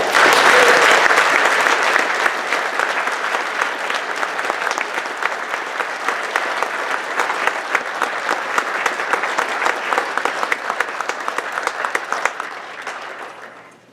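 An audience at an FFA banquet applauds warmly, a dense burst of clapping that starts loud, holds steady for several seconds and tapers off at the end.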